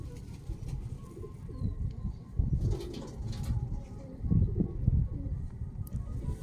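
Low, throaty cooing of several Dubai-breed teddy pigeons, overlapping and repeating close by, with faint rustling around them.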